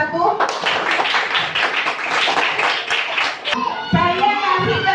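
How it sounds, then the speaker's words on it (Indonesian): Children in a classroom clap together for a group of classmates, brisk and fairly loud rhythmic hand claps that stop abruptly, followed by a voice and some chatter. "kasih tepuk tangan untuk kelompok 1"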